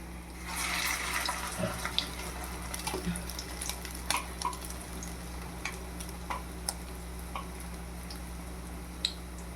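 Already boiled chicken fries in a pan with ginger and spices, a soft steady sizzle broken by scattered crackles and the scrape of stirring, with no voices.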